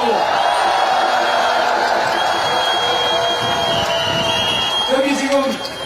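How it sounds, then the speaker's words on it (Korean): A crowd cheers and applauds at an outdoor presidential campaign rally in Seoul Station plaza, a dense mass of claps and shouts in the mid range with a few whoops rising near the end. "여러분 박수 한번 크게 보내주세요"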